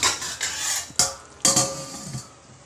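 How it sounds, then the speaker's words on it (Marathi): A metal lid clatters onto a large cooking pot while chicken tahari cooks, giving a few sharp clanks with a light scrape and brief ringing in between, close and clear with no voices. "आता झाकण घालूया."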